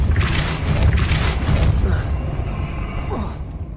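A Depulso spell going off in the video game Hogwarts Legacy: a heavy boom with rushing hiss, then fading creaks and sweeping tones over a steady low rumble, loud and near.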